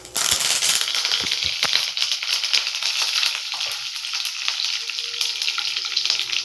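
Curry leaves crackle and sizzle in hot oil, a dense, loud spitting hiss with sharp pops in the first seconds that then settles into a steady frying sizzle.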